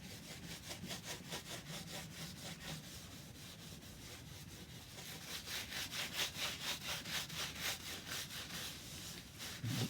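Cloth rubbing back a waxed finish with white spirit on a marquetry longcase clock case, a rapid rhythmic back-and-forth scrubbing with soft swishing strokes, close and steady, quickening toward the end.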